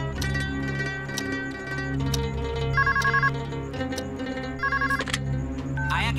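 A telephone rings repeatedly in a Bollywood romantic film from 2005, electronic trilling bursts over a sustained musical background score, loud and close, with no talking.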